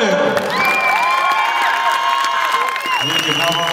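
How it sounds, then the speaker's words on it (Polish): A packed MMA Challengers 8 crowd claps, cheers and whoops after a fight ends with strikes on the ground. The roar is loud and continuous, with high shouts and a few whistles on top. "Wielkie brawa."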